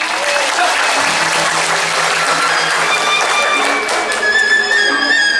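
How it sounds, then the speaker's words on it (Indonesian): An audience at a comic Balinese drama gong performance bursts into loud, dense applause that carries on steadily for several seconds, with faint voices mixed into the crowd noise. "Tepuk tangan sekali."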